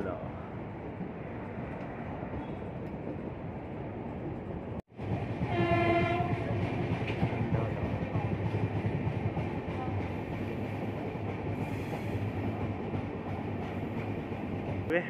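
A Deccan Express train between Pune and Mumbai rumbles steadily, pulling into Khandala station. A sharp jolt near five seconds is followed by a louder, continuous roll of wagons with a brief high whine.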